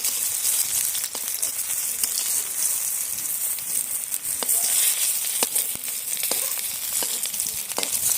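Hilsa fish paturi wrapped in pumpkin leaves frying in oil, a steady close sizzle with scattered sharp pops and crackles, no voices.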